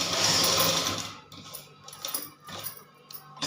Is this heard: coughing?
no